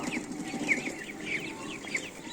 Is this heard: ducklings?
yes